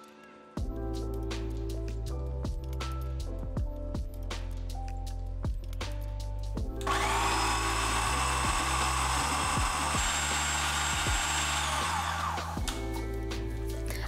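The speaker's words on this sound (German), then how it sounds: "Auch die Linsen püriere ich nicht komplett glatt." A blender purées lentils, starting after a low steady motor hum with clicks and rising into a loud, dense whirring whine for several seconds before cutting back to the hum.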